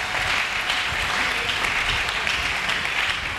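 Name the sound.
congregation applauding in church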